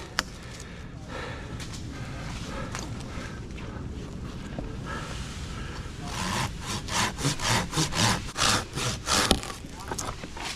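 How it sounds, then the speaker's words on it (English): Hand saw cutting through wood outdoors, a scraping rasp that grows louder and turns into strong rhythmic back-and-forth strokes in the second half, close and alone. "All right, I'm about to cut something."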